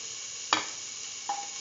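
Shallots dropped into a hot pan, a sharp clatter followed by a faint sizzle, then a brief scrape or clink a moment later.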